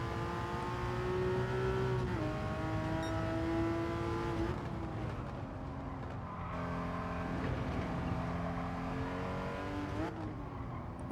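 A Porsche Cayman GT4 in Gran Turismo 7 at the Nürburgring accelerates hard, its engine note climbing steadily and dropping with each upshift, loud and continuous with no talking.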